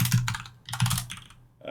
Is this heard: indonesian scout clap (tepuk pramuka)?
no